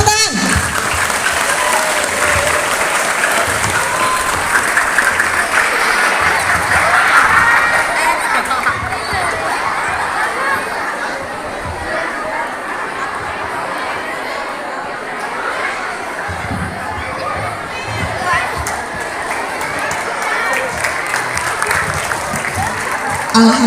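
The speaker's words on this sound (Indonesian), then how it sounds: "Yuk tepuk tangan." School audience applauding a junior high pantomime performance at an opening event, sustained loud clapping with cheers and children's shouts over crowd chatter, continuing for the whole stretch and easing slightly midway.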